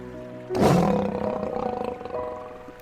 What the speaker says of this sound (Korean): 마디바는 오줌으로 영역 표시를 한 뒤 크게 포효했다.